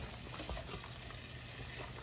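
Golden Ray margarine being stirred as it melts in a pot, a soft, continuous sizzle and scrape with no voices.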